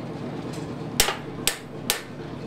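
Three sharp, ringing hammer blows on a chisel marking a line across hot steel, spaced about half a second apart, loud and close over a low background hum.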